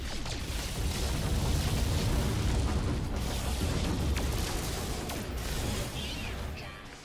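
Space ships firing and explosions in the video game No Man's Sky: a dense, continuous barrage of booming blasts and weapon fire fills the whole stretch and eases off slightly near the end.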